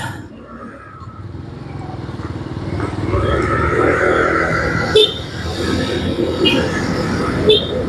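A motorcycle engine runs steadily at a fuel stop, a continuous close rumble that swells in loudness partway through, with a few sharp clanks near the end.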